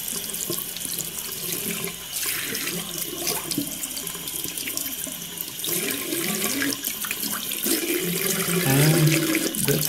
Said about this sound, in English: we can now rinse the board underwater